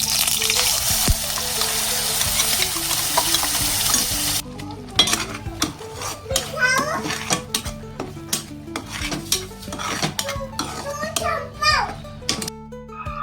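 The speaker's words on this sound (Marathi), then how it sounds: "आता तापलेल्या कढईत 2 टेबलस्पून तेल घालून त्यात हे वाटलेले वाटण तेल सुटेपर्यंत परतवून" Ground masala paste sautés in hot oil in a wok for a Kokan-style mandeli fish curry, with loud sizzling at first, then scraping and stirring clinks of a spoon against the pan under background music and voices.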